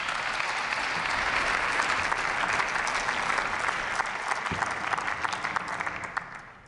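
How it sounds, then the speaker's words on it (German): Sustained, dense applause from a large audience in the German Bundestag chamber, loud and even for several seconds before thinning out toward the end, with no clear talk over it. "Applaus"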